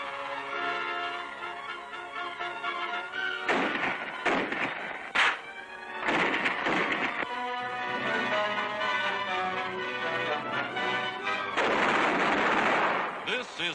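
155mm artillery guns and small-arms fire in 1943 South Pacific combat against Japanese forces: several heavy booming blasts and gunfire bursts break through a loud, continuous music score.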